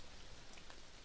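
Rain from the Clannad video game, an unbroken close hiss of falling rain with a steady level and no voices.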